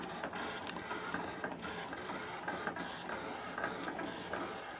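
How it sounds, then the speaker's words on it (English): A Brother ScanNCut cutting machine works through cardstock during a two-colour foiling project, producing a steady mechanical whir broken by frequent light ticks and shuffles of the carriage, moderately close and with no one talking. "you can come out and watch the machine do its thing"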